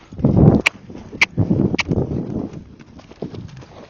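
A Tennessee Walking Horse canters during ground work, its hoof beats thudding in an uneven rhythm at moderate distance, with a few sharp snaps in between.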